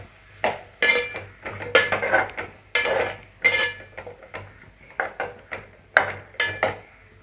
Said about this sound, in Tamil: கிளறி விட்டுப்போம்.